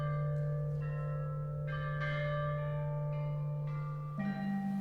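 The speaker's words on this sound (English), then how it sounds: "played on totally wonderful things like this monumental set of bells that dated to just after Confucius' death" A monumental set of ancient Chinese bronze bells, dating to just after Confucius' death, rings in a series of clear, sustained strikes, each tone swelling and overlapping into a resonant, humming decay.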